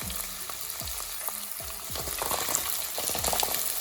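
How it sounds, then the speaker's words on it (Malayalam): Shallots frying in a pan for mutton chatti curry: a dense, continuous sizzle and crackle, close-up, with stirring scrapes and occasional spattering pops that grow busier toward the end. "അതൊന്ന് ഇളക്കിയിട്ട് പിന്നീട് കൊച്ചുള്ളി ചേർക്കണം"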